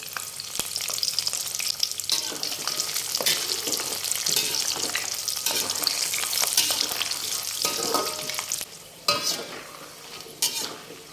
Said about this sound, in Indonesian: Lanjut goreng kacangnya.